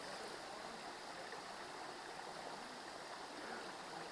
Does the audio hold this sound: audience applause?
no